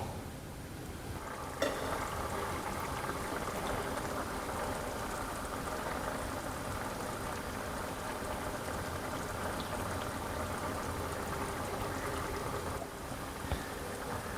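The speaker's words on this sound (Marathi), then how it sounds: "हे बघा ह्या पद्धतीने ही उकळवून द्यायची चांगली आणि ती आता उकळलेली आहे" A pot of cowpea curry bubbles at a steady boil, a constant soft crackling simmer with a faint clunk near the start, no talking.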